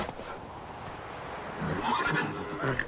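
Roach, the horse in The Witcher 3, gives a drawn-out neigh over the game's ambient sound and hoofbeats, growing stronger toward the end.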